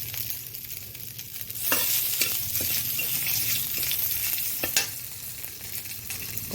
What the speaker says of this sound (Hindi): तापरे मेथीर गुंडटा टिके तेल रे पकेइदबा।